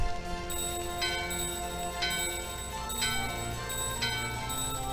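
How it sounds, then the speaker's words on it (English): A bell chimes repeatedly to open a door in the video game Final Fantasy IX, with bright ringing strikes roughly once per second over steady game music. "we needed that bell to open this door"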